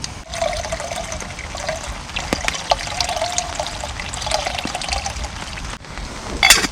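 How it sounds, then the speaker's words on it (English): Water pours and trickles into a Stanley camping pot at a rainy tarp camp, a steady close splashing fill ending in a short brighter burst. "we're going to fill up our Stanley pot here"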